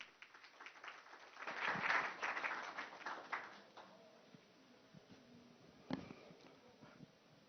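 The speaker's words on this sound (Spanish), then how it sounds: "le vamos a dar un fuerte aplauso" Audience applause at an occupational health congress, a burst of clapping that swells within the first few seconds, then fades into scattered claps and room noise with faint voices.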